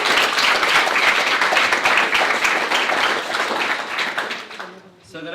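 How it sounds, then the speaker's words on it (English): A hackathon crowd applauds during a prize demo session, with loud, sustained clapping from many hands that tapers off near the end. "Another round of applause, please."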